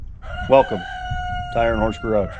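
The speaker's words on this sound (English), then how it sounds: "you probably hear a rooster crowing in about all of our videos" A rooster crows loudly nearby in two harsh, drawn-out calls, with someone speaking briefly around them.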